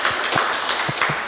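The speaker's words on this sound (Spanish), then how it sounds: "Si queréis, le podéis dar otro aplauso" Audience applause at a talk, a short burst of scattered clapping from a crowd, fairly loud and close, with no speech over it.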